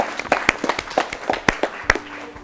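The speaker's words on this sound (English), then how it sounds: "So round of applause for them." A round of applause from the audience at a school quiz competition, scattered individual claps with a few sharp, loud ones standing out, fading toward the end under low background noise.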